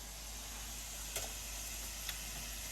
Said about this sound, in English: meatballs, and they're cooking up beautiful.